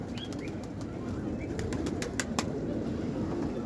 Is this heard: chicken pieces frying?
no